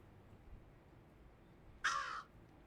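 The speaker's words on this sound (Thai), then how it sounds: "โอ้มีอีกา" A single loud crow caw rings out in the video game Little Kitty, Big City, one short harsh call about two seconds in over a quiet game background.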